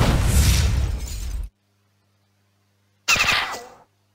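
Two tank shell shots from the Thresher tank in the video game Battle Nations, each a loud booming blast that cuts off sharply, separated by a second and a half of silence.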